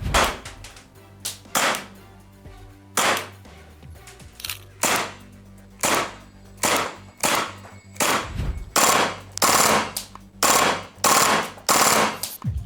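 Repeated short bursts of rapid fire from an MP7A1 airsoft submachine gun with blowback, each a sharp rattling volley with mechanical clacking, separated by brief pauses and growing denser toward the end.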